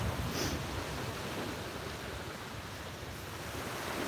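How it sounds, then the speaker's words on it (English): Ocean waves roll onto a beach at sunrise, a steady broad wash of surf mixed with wind rumble on the microphone, with no voices. "The waves are powerful, though."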